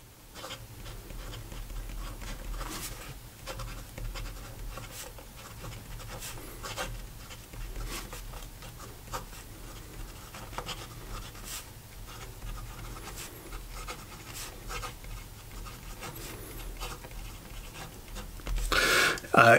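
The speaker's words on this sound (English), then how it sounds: "Okay, so here we go with the rest of the writing sample." Aurora Minerali Diopside fountain pen with a fine nib writing on paper, a soft continuous scratching with small taps and strokes, close and fairly quiet over low background hum.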